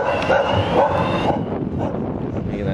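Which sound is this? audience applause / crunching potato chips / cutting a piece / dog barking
dog barking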